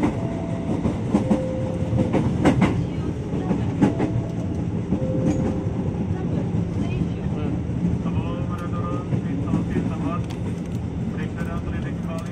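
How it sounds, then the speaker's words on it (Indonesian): Steady rumble and clatter of a KRL Commuter Line electric train heading toward Tebet station, with tonal motor whines and rail clicks throughout; voices talk faintly inside the carriage. "Seperti itulah perjalanan kita naik KRL Komuter"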